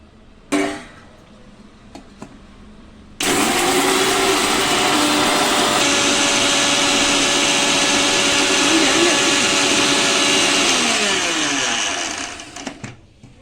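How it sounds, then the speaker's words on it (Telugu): A mixer grinder whirs loudly and steadily for several seconds grinding spices such as fenugreek and mustard seeds to powder, then winds down, after a brief click and short clatter at the start. "ఇవి మొత్తము పౌడర్ చేసేసుకుందాము మిక్సీలో వేసి"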